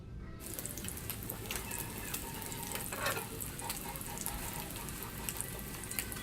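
Breadcrumb-coated tilapia fries in a pan with a dense, steady sizzle and crackle, and a few faint clicks come through over the constant hiss.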